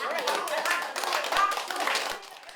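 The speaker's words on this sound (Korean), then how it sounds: "박수 박수." Clapping from a small group at a village senior welfare center, a few seconds of scattered hand claps mixed with chatter and voices, fairly close.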